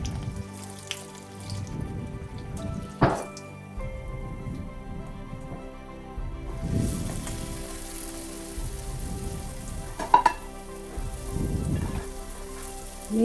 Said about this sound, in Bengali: নিয়ে কড়াতে তেল দিয়ে ডালপুরিগুলো ভেজে নিচ্ছি